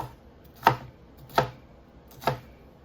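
A knife cuts a bad spot off a pepper on a cutting board, giving three separate soft chopping taps spaced evenly and close up, with no talk.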